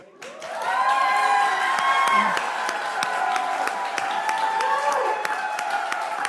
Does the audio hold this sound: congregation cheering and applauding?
yes